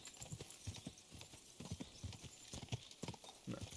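Horse hooves clip-clopping in the medieval video game Kingdom Come: Deliverance II, a steady, moderately paced rhythm of soft thuds close by, continuing throughout without talk.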